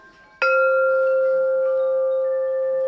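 A large 528 solfeggio wind chime struck once, ringing with a bright metallic attack and sustained, steady overtones that hang on for several seconds, near and clear.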